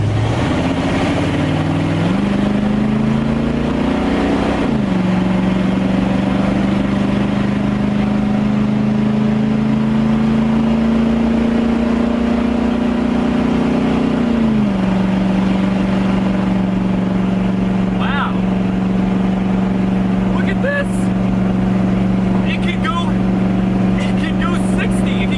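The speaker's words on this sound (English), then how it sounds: "we lost so much back pressure by running open headers" A 1980s Ford Bronco V8 running open headers drives along, its engine droning loudly with rising revs, a shift-like drop near five seconds and another near fifteen, then settling into a steady cruise while people talk over it.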